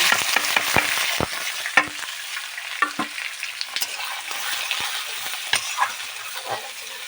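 Chopped onions hitting hot oil with cumin and sugar for a jackfruit and prawn curry, a steady close sizzle broken by frequent sharp clinks and scrapes of a stirring spoon against the pan.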